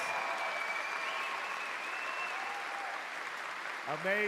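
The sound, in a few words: applause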